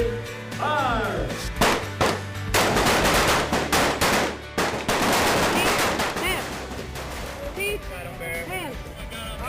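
Gunfire on a range during U.S. Air Force basic military training: rapid bursts and single loud shots crack close by in uneven volleys, with shouted voices mixed in.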